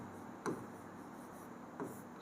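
Chalk or marker writing on a board during a maths class, faint soft scratching strokes with a couple of sharper taps, quiet room and no talking.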